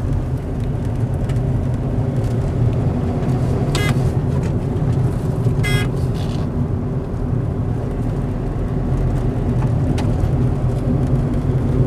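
A 2015 Hyundai Verna SX(O) top-model sedan accelerates, its engine a steady, continuous drone with broadband road and wind noise throughout, heard from inside the car with no talking.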